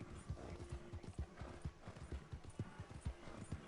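Horse hooves clip-clop at a steady galloping rhythm in the Red Dead Redemption video game, close and continuous with a low drone underneath and a faint whinny mixed in.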